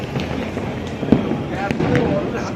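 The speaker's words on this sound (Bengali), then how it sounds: "এত বাজি ফাটছে" New Year's night fireworks bursting outdoors, a dense rumbling crackle with a few sharper pops standing out, heard behind a person talking.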